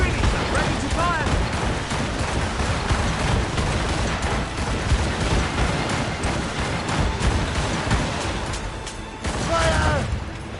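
Ship cannons booming in a naval battle in Assassin's Creed Rogue: heavy, overlapping blasts and rumbling explosions continue throughout, with shouted voices mixed into the din.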